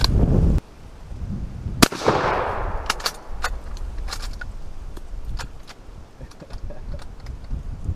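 A rifle shot sets off Tannerite packed against a TV: a sharp, loud blast at about two seconds, followed by a short decaying wash of debris and scattered crackling impacts under steady outdoor background noise.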